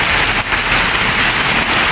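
Heavy rain pours steadily in a dense, loud wash of hiss, with no pauses or other sounds standing out.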